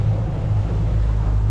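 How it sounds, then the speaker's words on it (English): Strong wind buffets the microphone out on the water on a morning fishing trip, a constant low roar and rumble that goes on without a break, with no voices. "It's pretty windy, it's not very tidy out here today"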